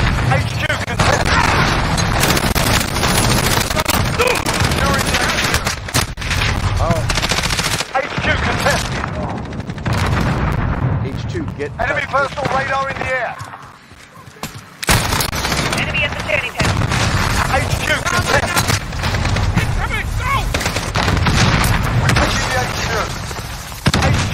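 Dense, loud gunfire from a Modern Warfare multiplayer match: rapid automatic bursts and explosions run almost without a break for over twenty seconds, with a brief lull in the middle, under an excited player's talk.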